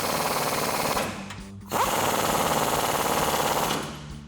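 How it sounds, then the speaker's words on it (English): Power tool driving the rear nuts of a leaf spring with a 19mm socket on a 2007-2021 Toyota Tundra fitted with an Old Man Emu Dakar lift; two steady loud whirring bursts with a short pause between, no talk. "Now we'll tighten up the rear nuts."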